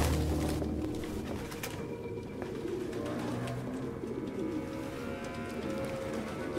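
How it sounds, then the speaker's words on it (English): Pigeons cooing inside an abandoned Detroit apartment in the video game Detroit: Become Human, a steady layered murmur of low coos from several birds, fairly close and continuous with no talk over them. "all these birds"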